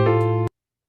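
A sustained, harmonically rich bass synth tone plays steadily for about half a second, then cuts off abruptly into silence.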